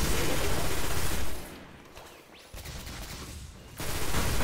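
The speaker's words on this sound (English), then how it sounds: "I like to use a grenade to soften those guys up" A loud, dense burst of rapid gunfire and blast noise in the Destiny video game Nexus Nightfall strike drops to a brief lull, then resumes at full intensity.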